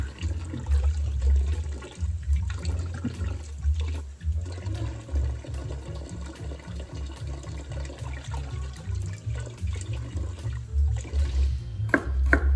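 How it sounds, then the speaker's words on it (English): Running water splashes and sloshes continuously as produce is rinsed and moved around in a basin, with occasional louder surges. "we're going to give all of our ingredients a nice wash in the cold water."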